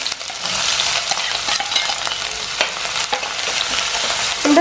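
Ginger and garlic sauté in coconut oil with mustard seeds for a pickle. The pan gives a loud, close, continuous sizzle with stirring scrapes throughout and no voices.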